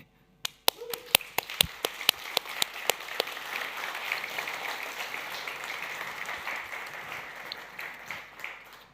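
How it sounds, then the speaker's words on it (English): A small conference audience applauds an international speaker at a security talk, opening with a few separate sharp claps that quickly grow into steady, moderately loud clapping sustained to the end. "big applause for him"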